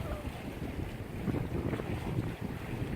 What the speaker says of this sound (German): Wind kommt von Norden, von Achtern, also segeln wir nach Süden.